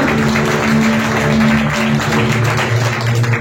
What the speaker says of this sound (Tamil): நிச்சயமா அவருக்கு ஒரு கைத்தட்டல் கொடுக்கணும்.